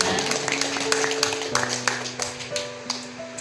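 Applause from an audience at a parenting education session on healthy food for children with special needs, a dense patter of many hands clapping steadily for a few seconds, with a faint tone humming underneath.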